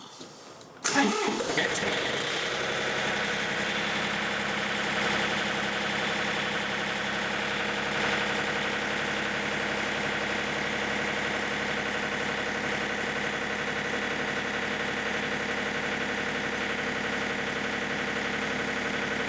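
A John Deere 3520 compact tractor engine cranks and catches at a quarter throttle, then settles into a steady, even idle that runs unbroken and close by.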